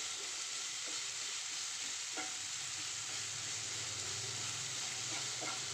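Onions sauté in a pan for a stuffed kozhukatta masala, making a soft, even sizzle with a few faint stirring clicks, fairly quiet and with no talking.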